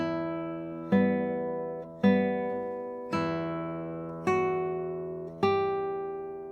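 Classical guitar playing the opening two measures of a waltz, five evenly spaced plucked notes in a steady three-beat lilt, each ringing and fading, close and unaccompanied.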